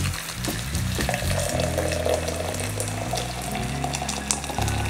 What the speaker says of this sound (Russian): Заливаем ее водой нужной температуры.